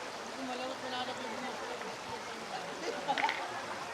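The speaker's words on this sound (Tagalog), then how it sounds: "Yan ang ilog." Steady broadband rush of a river flowing past a camp swimming spot, continuous and fairly close, with faint voices and a few brief higher sounds near the end.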